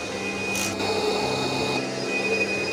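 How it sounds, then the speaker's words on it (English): Table saw cutting a wooden backdrop for a house number sign down to size, a steady close high whine of the spinning blade with a brief rougher burst as it bites the wood. "pulled out my table saw and used it to cut the backdrop of my sign down to size"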